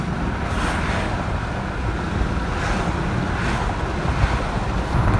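A 1995 Mercedes-Benz E300 with the OM606 diesel accelerates hard uphill, heard from inside as a steady, dense rumble and road roar with rising wind noise, continuous throughout with no talking.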